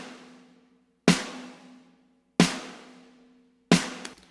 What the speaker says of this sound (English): So our chorus snare drum sounds,